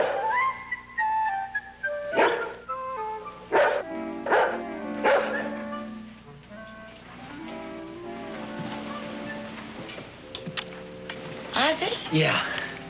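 A dog barks and yips in short, loud bursts, spaced apart at first and then clustering toward the end, with people talking around them.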